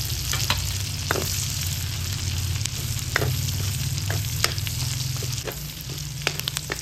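White and red onions frying in a pan for dinuguan give a steady, close sizzle, with scattered sharp crackles and stirring clicks over a low hum.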